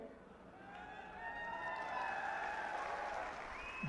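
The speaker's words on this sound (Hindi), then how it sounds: "अभी आपने ताली बजा दी" A large crowd at a Congress party political rally in Haryana breaks into applause, a sustained wash of clapping that swells and holds steady, with a faint voice emerging near the end.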